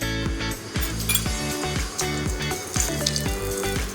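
Cueca virada dough frying in hot oil in a pan, a steady close sizzle and crackle with light metallic clinks of a spoon against the pan throughout.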